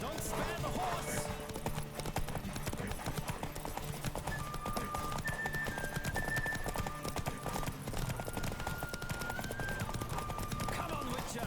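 Galloping hooves from a horse race in The Witcher 3 drum steadily for the whole stretch, near and prominent, with game music and someone talking over them.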